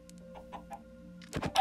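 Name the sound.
chickens clucking in Minecraft video game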